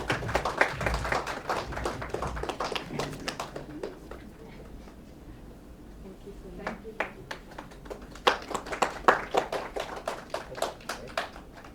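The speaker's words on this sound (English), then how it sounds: "A big round of applause." Audience applause at an Ayurveda Day event hall: scattered clapping that swells at the start, thins out in the middle, then picks up again in bursts toward the end, moderately distant.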